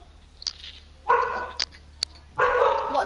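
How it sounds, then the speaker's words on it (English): Two Labradors bark in short bursts, a couple of sharp yips and two fuller barks spread out with brief gaps, fairly faint and a little distant, over a low steady hum. "Two Labradors and they're both called Honey."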